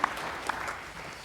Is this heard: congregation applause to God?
yes